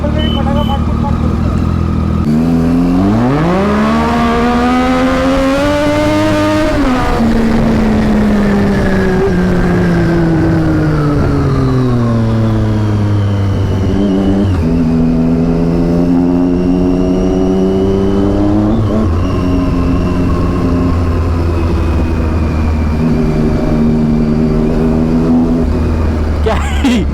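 A superbike roars through a hard launch, its engine revving loud and close with rising and falling pitch sweeps as it accelerates and shifts, sustained for nearly half a minute.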